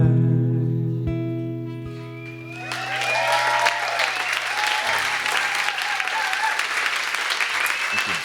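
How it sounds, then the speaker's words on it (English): Applause from a Sunday night concert audience in Nashville follows a song; a sustained instrument note fades out, then dense clapping swells and continues steadily at moderate volume with faint voices mixed in. "Thank you for clapping"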